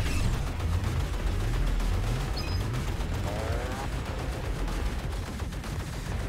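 Weapon fire in the video game Assault Android Cactus, including a cannon, comes as dense repeated bursts of shots over a busy, loud game soundtrack throughout.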